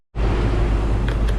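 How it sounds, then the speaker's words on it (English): Paint booth blowers switch on to dry freshly sprayed metallic black water-based paint, a sudden, loud, steady roar of rushing air that holds constant. "I'm gonna turn the blowers on to dry this quick."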